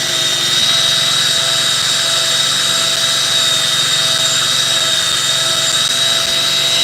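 A machine polisher works on single stage car paint with a loud, constant high-pitched whine and a dense hiss, holding steady from start to finish.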